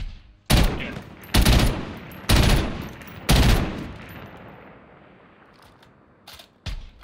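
Gunfire in Call of Duty: Warzone: four loud, evenly spaced bursts of rapid shots ring out, a reverberant tail fades after them, and two shorter, quieter bursts follow near the end.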